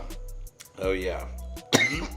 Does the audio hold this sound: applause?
no